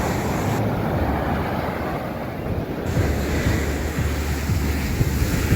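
Rough surf rolls onto a clean beach at Playa Alicia in Sosúa, Dominican Republic, a continuous loud roar of breaking waves with heavy wind buffeting the microphone.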